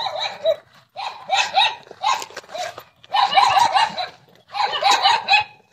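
A dog barking near a house on a delivery stop, in repeated bursts of sharp barks with short pauses between them, fairly close and loud.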